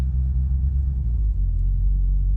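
A 1982 Plymouth Reliant with no accelerator pump hesitates as it pulls away, a loud, steady low engine rumble and drone that never clearly builds in pitch, heard from inside the car.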